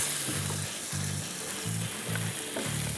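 Cubed onions fry in a pan with chicken, giving a loud, continuous sizzle up close, broken by rhythmic low scraping strokes of stirring roughly every half second.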